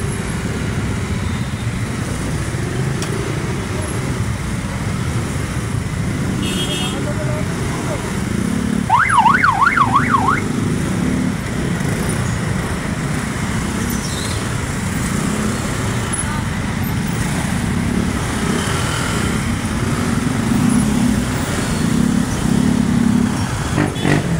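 Heavy road traffic on a crowded street en route to Luneta rumbles continuously and loudly, with engines and motorcycles droning, a brief warbling siren passing midway, and people talking over the din.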